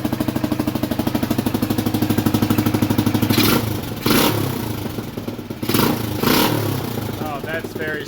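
A 1980 Honda XL250S single-cylinder motorcycle engine with a previously stuck throttle runs close and loud, a rapid even thumping idle that roughens and blips in bursts later, with a voice heard over it.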